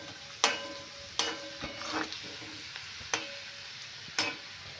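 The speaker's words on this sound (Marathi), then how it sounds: "मस्त आपला कांदा आता ब्राऊन होत आहे. त्याला मध्ये असं हलवून घ्यायचं." Onions browning in a pan for an evening snack, sizzling quietly while a utensil strikes and scrapes the pan about five times at uneven intervals, with no talk.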